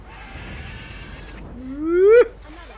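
A horse in The Witcher 3 gives a single loud, rising whinny that cuts off sharply, following a quieter stretch of game background sound.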